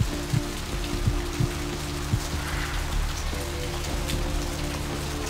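Steady rain pours down in the video game Vampire: The Masquerade - Bloodlines, a continuous wash of drops on hard surfaces with a low hum underneath and a few soft thumps, heard alone at moderate level.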